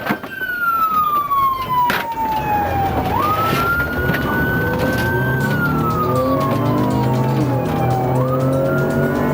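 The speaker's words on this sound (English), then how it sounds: "Deputy Torres activated his lights and siren and attempted a traffic stop" A police car siren wails steadily, rising and falling in long sweeps over loud road and engine rumble, close by.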